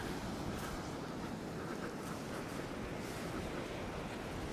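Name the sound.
sea waves on the shore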